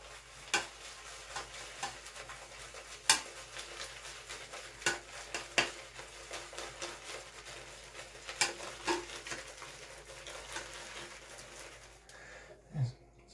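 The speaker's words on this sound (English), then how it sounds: "so it's lathering pretty decently" Shave cream from Dollar Shave Club being lathered, giving a soft continuous wet swishing close by, broken by scattered light clicks and taps throughout.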